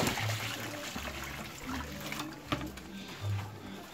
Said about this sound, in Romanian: O să punem apă cu sare de baie și în acea de-a doua cădiță